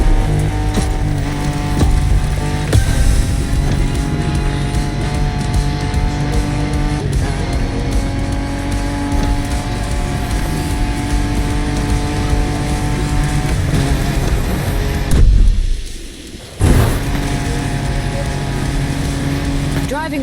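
Off-road car engine in The Crew Motorfest, a loud sustained drone that rises and falls through gear changes, with a brief dip and sharp burst near the end, under a narrating voice.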